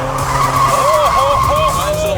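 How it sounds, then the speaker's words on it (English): A Japanese drift-spec car with high horsepower does a smoky burnout, its tires squealing loudly and continuously in wavering tones over a roaring engine, close up. "Are you ready to do a big smoky burnout?"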